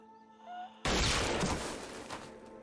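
Gunfire in a Walking Dead episode bursts in loudly after a quiet tonal stretch, a sharp blast followed by a sustained noisy crackle and echo that slowly tails off.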